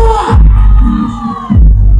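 A crowd on the left side of an audience at an outdoor event in Sengkang, Wajo, bursts into loud cheering and whooping, with a swelling roar that cuts off briefly, then surges again, close and dense.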